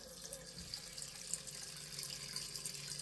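A badger shaving brush is rinsed under a running tap, a steady, fairly quiet stream of water splashing through the bristles into a sink.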